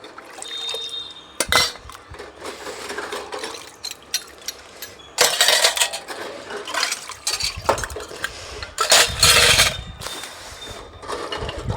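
Washed pooja vessels clink and clatter as they are lifted out of water and set down on a cloth, with sharp metallic knocks, splashes and dripping in irregular bursts close by.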